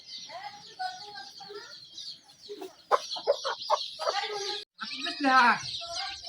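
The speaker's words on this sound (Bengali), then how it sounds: "আজকে কিন্তু আমার এই দুইটা মুরগি বাচ্চা নিয়ে উঠছে" Two farm hens with newly hatched chicks, the mother teaching them to eat fish, cluck and peep in short repeated bursts close by, with a person talking over part of it.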